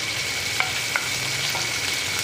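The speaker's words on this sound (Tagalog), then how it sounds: "gigisa ko lang naman siya rito, tapos ihuhulog ko na doon sa munggo" Ingredients sautéing in a frying pan for Filipino mung bean stew, a constant close hissing sizzle with a few soft stirring clicks.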